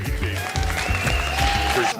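Crowd applause and cheering ring out for a boxer after a fight at a boxing event, a steady, dense roar of clapping lasting throughout with a voice speaking over it.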